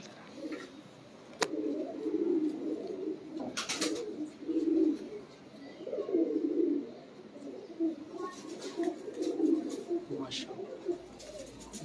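Teddy-breed pigeons coo in low, repeated throaty bursts, close and steady, with a few brief clicks and rustles mixed in.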